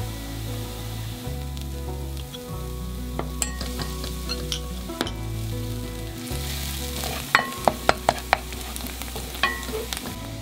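Onion frying in an oiled pan over low heat for a Japanese curry sauce, a steady close sizzle with a low hum pulsing on and off underneath and sharp spatula clicks and taps growing more frequent toward the end.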